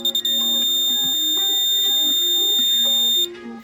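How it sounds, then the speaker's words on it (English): A steady, high-pitched piezo beeper tone sounds continuously, bright and piercing, over a low musical hum, then cuts off near the end. "I found a beeper kicking around"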